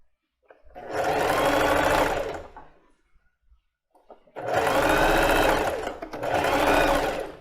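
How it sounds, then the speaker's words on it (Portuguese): A domestic sewing machine stitches loudly in two long runs with a short pause between, running back and forth to backstitch at the start and end of a seam. The mechanical whir is close and rhythmic. "Sempre no começo e no final das costuras, faço o retrocesso para poder prender melhor e não desmanchar a costura"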